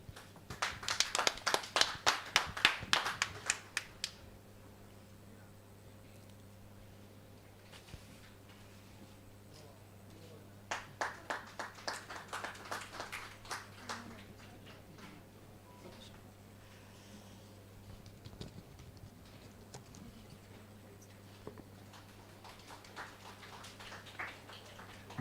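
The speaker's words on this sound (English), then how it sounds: "Very mild applause," Mild applause at the Indian Catholic Press Association convention, held in an indoor hall: two short, sparse bursts of scattered clapping separated by a pause, faint and thin, over a constant low electrical hum.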